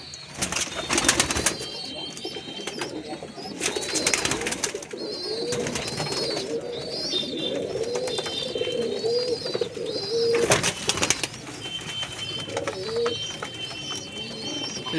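Chinia and Kalpetia pigeons at a sale coo repeatedly in soft, rolling calls, with bursts of wing flapping and rustling mixed in, fairly close and continuous.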